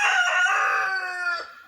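A rooster in a chicken coop crows one long, drawn-out call that fades at the end, near and clear, with no other sounds around it.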